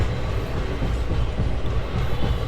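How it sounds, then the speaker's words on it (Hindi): Sleeper class train rolling on rails in Bihar, a loud continuous rumble with rhythmic wheel clatter heard from inside the carriage. "ये जो आवाज़ है ठक ठक के"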